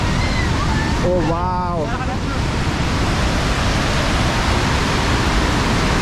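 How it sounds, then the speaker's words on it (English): Waterfall at the top of the falls in Quebec City roars as a loud, constant rushing wash close by, with a brief exclaiming voice near the start. "this is the top of the waterfall"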